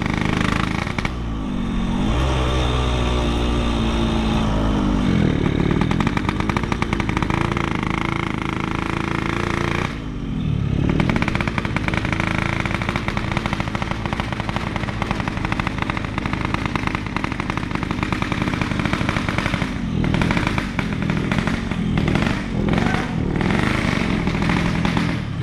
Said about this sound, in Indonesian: Tadi knalpotnya berisik banget ya.